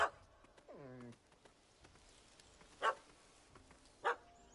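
A dog barks at a cat that has fled up a tree in The Witcher 3: Heart of Stone. One drawn-out whining bark comes first, followed by two short, sharp barks spaced well apart, all at moderate distance and with no talking.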